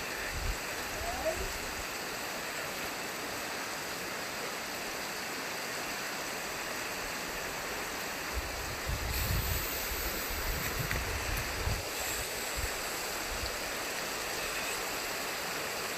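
Steady rushing of flowing water near an old stone bridge, a broad continuous wash heard outdoors with some wind buffeting the microphone and no talk.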